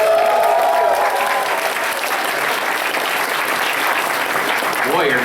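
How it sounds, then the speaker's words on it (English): A closing-ceremony crowd at a convention gives a steady, dense round of applause that fills the whole stretch at close range, with a faint cheer near the start. "One more round of applause for Amber real quick."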